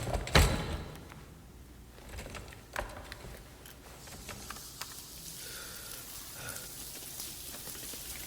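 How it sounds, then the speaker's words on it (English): Steady rain falls throughout, a dense patter with scattered sharper drops and a few louder taps, moderately quiet and with no voices. "Rain."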